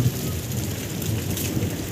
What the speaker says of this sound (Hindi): आप देखिए कैसे बारिश हो रहा है, देख रहे हैं कितना बादल फट रहा है बिल्कुल।